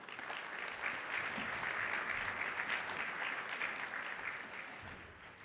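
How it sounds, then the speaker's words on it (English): An audience at an annual chamber awards banquet claps for a couple, a dense, steady wash of applause from many hands that holds for several seconds before gradually fading. "One more round of applause for Deb and Ken"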